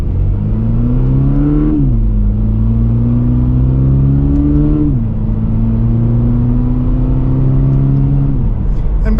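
A 2024 Toyota GR86 engine pulls steadily from inside the car, its rising drone climbing through the gears with two shifts dropping the pitch before it rises again, loud and continuous with road rumble underneath.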